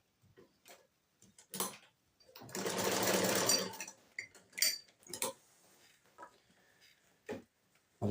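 Sewing machine stitching wool fabric for a trapper hat, a dense whirring burst of about a second and a half with short bursts of needle tapping before and after, close and fairly quiet.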